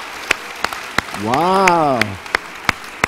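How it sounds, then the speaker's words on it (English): Sparse, evenly spaced claps ring out at a church service, a few at a time rather than full applause, while a voice speaks over them in the middle. "Let's clap again."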